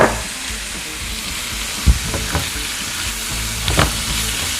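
Peppers stir-frying in a pan for Filipino pancit guisado noodles, a steady close sizzle with a few sharp clinks and scrapes of a utensil stirring.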